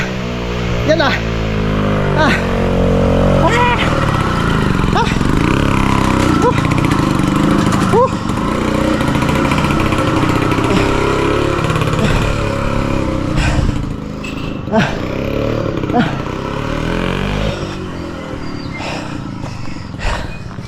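A cement mixer's motor runs loudly and steadily throughout during concrete pouring, with a deep, rumbling drone, while people talk over it and the pitch shifts now and then.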